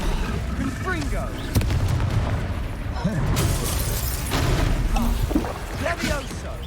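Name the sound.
Confringo spell cast in video game Hogwarts Legacy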